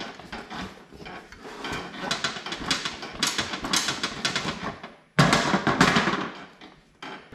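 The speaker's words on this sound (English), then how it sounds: "Hit it with a hammer with it laying on the ground on concrete." Hammer blows on a car front-end part, a hub and spacer, lying on a concrete floor: a long run of sharp metallic strikes in quick irregular succession, fairly loud and close, with a brief pause before a heavier burst.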